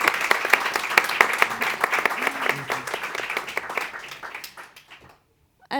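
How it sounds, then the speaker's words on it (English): Applause from the audience at an event on human rights in Venezuela, held at the Nobel Peace Center. Dense, steady clapping fills most of the clip, gradually thins and fades out, and a brief sound follows after a short silence. "give all of them a big hand"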